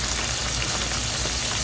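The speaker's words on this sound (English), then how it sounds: "now we're going to allow our tomato paste to cook for about a minute or so." Tomato paste cooking in a pan over medium-high heat for a Haitian herring sauce, giving a steady, dense crackling sizzle like light rain that holds level throughout with no voices.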